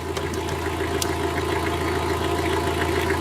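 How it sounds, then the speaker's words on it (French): A diesel engine runs steadily in a field recording, a continuous low, even rumble at moderate level with faint background clicks and no voices. "Le bruit d'un moteur diesel, coupé à 6h57."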